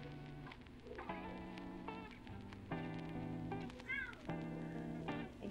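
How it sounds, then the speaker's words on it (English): An upset cat meows repeatedly, with drawn-out, wavering cries close by, sounding in several overlapping bursts against a steady low hum. "My cat is upset."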